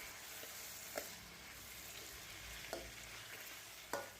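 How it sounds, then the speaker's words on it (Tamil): Tomatoes sauté in a pan over a medium flame for tomato rice, a constant soft sizzle broken by a few spoon scrapes against the pan, quiet and close with no talking. "இப்போ மீடியம் ஃப்ளேம்லேயே வச்சுட்டு நல்லா வதக்கிக்கலாம்"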